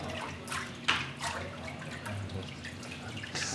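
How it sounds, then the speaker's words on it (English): Water drips and splashes as a paper mould is lifted and shaken during handmade papermaking, irregular close splatters and trickles with a few sharper drops. "shake it a little bit, so the water goes down"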